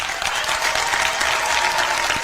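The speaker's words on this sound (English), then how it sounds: "I've heard better applause at a golf tournament." A small audience gives a thin, steady patter of applause for a couple of seconds, fairly close, without cheers.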